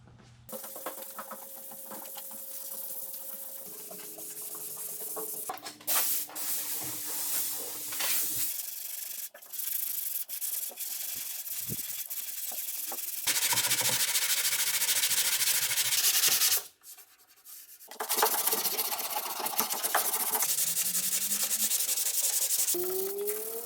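Repeated wet sanding strokes scrape across a 1973 Datsun 240Z car body in uneven bursts, with brief pauses and some higher hissy passes, fairly close.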